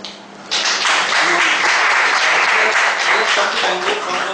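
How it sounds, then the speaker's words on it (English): A room full of people bursts into loud, sustained applause as a speaker is welcomed at a chartered accountancy students' speakers forum meeting, the clapping starting abruptly and holding dense and steady throughout. "let's welcome with a huge round of applause"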